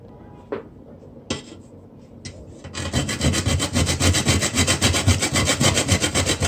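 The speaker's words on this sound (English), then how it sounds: "You're going to grate." Whole nutmeg, taken from its shell, is rubbed on a grater in a kitchen while making Jamaican rice porridge, a few light scrapes first, then steady, loud, rapid back-and-forth rasping that continues to the end.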